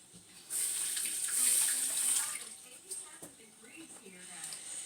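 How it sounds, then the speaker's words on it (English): Tap water runs into a kitchen sink while a hand is rinsed during meatloaf preparation, a soft, steady hiss that starts abruptly, holds for about two seconds, then tapers into faint splashes and drips. "Let me rinse my hand."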